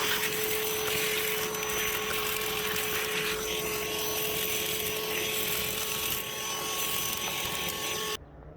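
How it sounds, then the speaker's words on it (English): A vacuum cleaner runs continuously with a steady whining motor tone while sucking up broken glass from a sliding glass door, shutting off abruptly at the very end. "Now I'm going to use the vacuum to vacuum up the rest."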